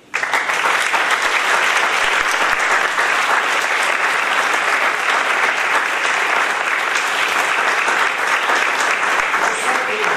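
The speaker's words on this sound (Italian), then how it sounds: "voglio un applauso doveroso a Giuseppe Sana." Applause at a children's event in Francavilla, a loud, sustained roar of many people clapping that starts abruptly and stays steady and dense to the end.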